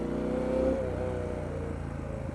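A Triumph Street Scrambler motorcycle pulls hard in first gear, its engine note rising close and steady before easing off, with no talk over it.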